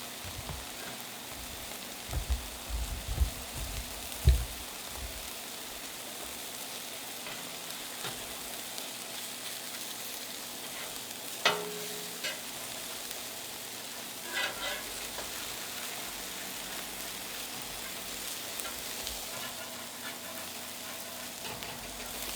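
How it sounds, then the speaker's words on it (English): Ground bison steaks shaped into large patties sizzle quietly on a Camp Chef XXL vertical pellet smoker, a faint steady crackle with a few soft knocks early on and no talk. "Love the sound of that sizzle."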